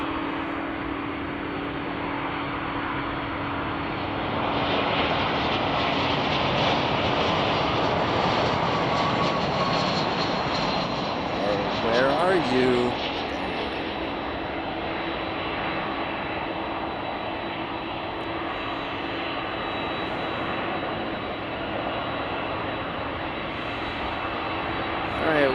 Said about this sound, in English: another 747 that's going to be taken off here shortly